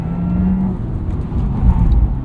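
A 2023 Porsche Taycan Turbo, an electric car, accelerates hard out of a corner on a cone-marked course at the Porsche Experience Center. From inside the cabin, a loud, steady motor whir and road rumble rise and swell.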